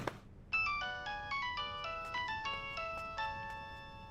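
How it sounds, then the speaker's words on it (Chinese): A telephone rings at home with a melodic electronic ringtone, a repeating run of bright tones that plays steadily and fairly loud for several seconds after a brief pause, with no voices over it. "电话响"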